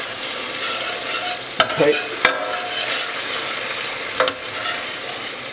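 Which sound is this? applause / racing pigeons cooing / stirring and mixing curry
stirring and mixing curry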